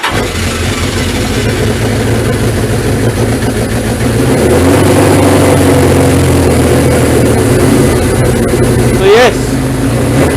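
A Suzuki GS 1000 motorcycle engine runs close by at a steady idle, and its tone shifts partway through as the throttle is adjusted. Someone talks over the engine.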